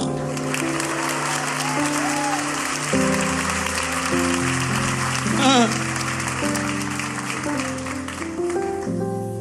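A church congregation applauds in a steady broadband wash over sustained keyboard or organ chords, with a short rising vocal or musical flourish near the middle.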